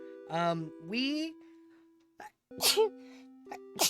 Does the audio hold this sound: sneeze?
yes